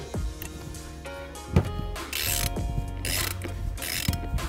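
Ratchet clicking on E12 oil filter housing bolts of a BMW F30 N55 engine, rapid close metallic pawl clatter in repeated bursts with bolt creaks, no voices.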